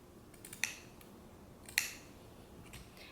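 Scissors snip through faux fur leather for a handmade jacket: two quiet, crisp cuts about a second apart, with near silence between them.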